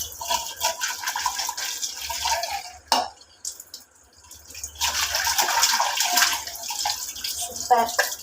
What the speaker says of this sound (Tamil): இந்த மாதிரி தண்ணியில் விளையாடினா ரொம்ப பிடிக்கும்.